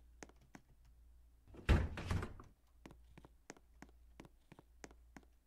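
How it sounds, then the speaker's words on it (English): A door opens and closes in Bowser's castle in a Mario video game, a muffled thud and rumbling slide in the middle, surrounded by a series of sharp, evenly spaced clicks and taps over a low, quiet hum. "Really don't like these noises of door opening and closing."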